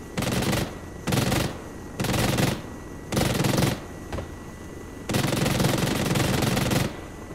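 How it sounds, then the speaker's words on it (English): Video game gunfire in a military-style multiplayer match, loud bursts of rapid automatic fire in several close, evenly spaced volleys with a longer sustained burst near the end, separated by short pauses. "one that was shooting at me right outside this building"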